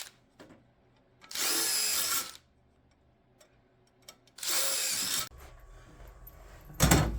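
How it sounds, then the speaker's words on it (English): A power drill whirs loudly in two short bursts about a second each, drilling out rivet holes in the floor of a 1952 Chevy, separated by quiet, then starts again briefly at the end. "I got to drill these out a little bit"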